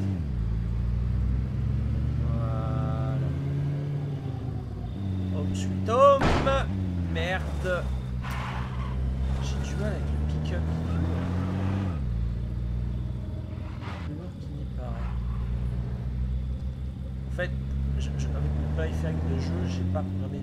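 A car driven in the video game State of Decay hums and revs steadily through the whole stretch, its engine pitch rising and falling under nearly constant talking from a player.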